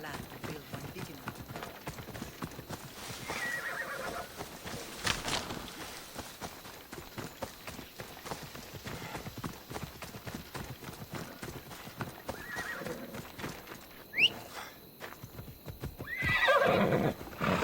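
A horse in the video game Assassin's Creed Odyssey gallops with steady clip-clop hoofbeats and gives a sharp whinny near the end, all under ongoing character dialogue and game sounds.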